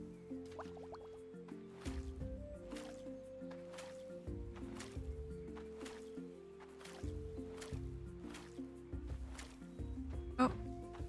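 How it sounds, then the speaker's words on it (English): Watering plants in the farming game Roots of Pacha: soft, repeated splashing drips over steady melodic background music, moderately quiet throughout. "water the plants in the meantime"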